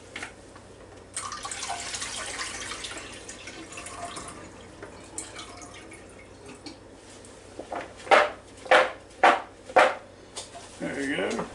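Tap water runs steadily into a sink while potatoes are washed by hand, with a soft continuous splash, occasional clinks of a bowl, then a series of louder rhythmic knocks and splashes near the end.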